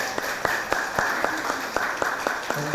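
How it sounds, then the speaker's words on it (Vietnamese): An audience claps for a venerable Buddhist monk at a Christmas gathering, a modest round of individual hand claps in a loose, uneven rhythm, fairly near and moderately loud. "Xin một tràng pháo tay thật lớn nữa cho thầy quý vị."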